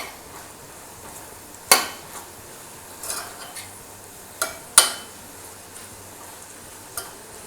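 Brinjal thokku masala being mixed in a pan, with sharp scattered clinks and scrapes of a spoon against the metal over a faint quiet background.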